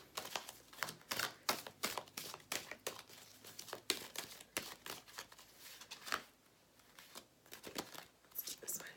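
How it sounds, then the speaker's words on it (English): Quick riffling and flicking of cards repeats in rapid bursts, papery and close, with brief pauses between shuffles. "It's hard to shuffle the cards when I have them already on the table"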